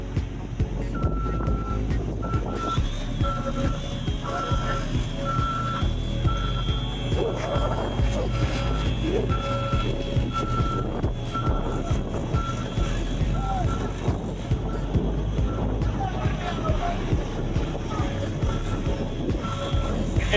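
Asphalt paving truck reversing on a road job, its backup alarm beeping in a steady repeating pattern over a low engine rumble and wind noise, with a voice talking briefly.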